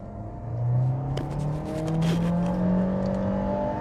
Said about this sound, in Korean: 엔진 소리 칼칼하게 이제 뱉어내면서